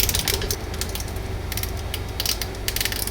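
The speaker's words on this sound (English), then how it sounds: "Play with the bezel." The rotating bezel of an Orient Mako II dive watch, model SAA0200CW9, gives rapid close-up ratcheting clicks in quick bursts with brief pauses between them, with no voices.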